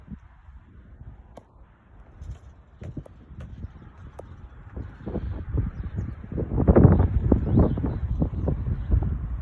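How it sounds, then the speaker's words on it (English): Strong windstorm gusts on an early morning in Lewis Center, Ohio, with steady rushing wind and leaf rustle that swells noticeably louder in the second half, plus a few faint bird calls and scattered knocks. "Yeah, and this wind is coming."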